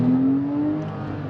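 Close, loud engine drone from inside a Porsche as it accelerates, a rising whine climbing steadily over a steady road rumble.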